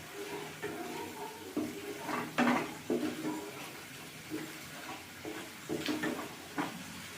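Spice paste for a banana stem and kathali banana dish is sautéed in a pan, with irregular scraping stir strokes and a low, soft sizzle underneath.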